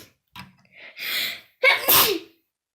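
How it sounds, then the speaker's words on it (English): A single close, loud sneeze comes in two parts: a short breathy intake that builds, then a sharp explosive burst that trails off into quiet. "I'm about to sneeze though."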